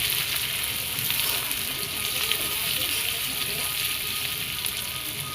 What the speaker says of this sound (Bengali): এখন তেলে দিয়ে দিলাম পেঁয়াজ।